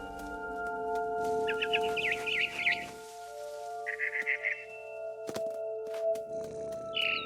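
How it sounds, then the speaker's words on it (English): A barn swallow chirps in What Remains of Edith Finch: short rapid trills in three separate bursts over a steady humming musical drone. "Then I heard chirping outside my window. It was a barn swallow going back to her nest."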